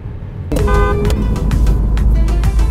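A car horn sounds abruptly in a single loud, sustained honk over road and engine rumble, close and dominant, with no talk.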